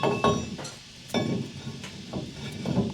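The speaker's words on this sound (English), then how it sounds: "So we're going to slide the rotor on next." A brake rotor slid onto the hub of a 1992 Silverado pickup, giving several light metallic clinks and knocks spaced over a few seconds, close up and moderately loud.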